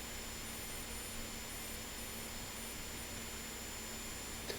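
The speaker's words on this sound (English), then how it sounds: "I like to dress the flats on my blades before I grind the bevel" A belt grinder dresses the flats and bevel of a steel skinning knife blade, giving a continuous, even abrasive whine and hiss that holds steady throughout with no talking.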